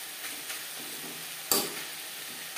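Khesari (grass pea) greens fry in a pan with a soft, steady sizzle and hiss, broken once midway by a brief scrape or clatter of stirring; no voices.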